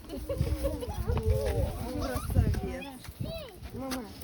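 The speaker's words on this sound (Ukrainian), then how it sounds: "Тут супер хороші альпійські кози." Several alpine goats bleat in wavering, nasal calls, some overlapping, amid nearby chatter and outdoor rustle at an Earth history park.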